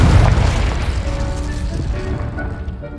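In Hogwarts Legacy, the Confringo spell lands with a heavy booming explosion, a loud deep burst at the start that rumbles and fades out over a few seconds.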